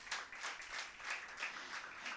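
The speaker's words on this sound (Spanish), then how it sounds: "Dele el aplauso a ese rey." Congregation applauding in a church, a steady wash of many hands clapping at moderate distance with soft rhythmic swells throughout, no talking over it.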